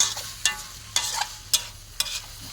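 Bamboo shoots with curry paste and meatballs stir-fried in a pan, a spatula scraping in four sharp, evenly spaced strokes over a steady low sizzle, close and moderately loud with no voices.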